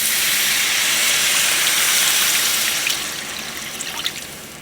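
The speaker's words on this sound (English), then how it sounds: "So we're going to add in our beef broth." Two cups of beef broth hit a hot pan of cooked flour, giving a loud, steady steaming hiss that fades a little after a few seconds into lighter bubbling and scattered spits.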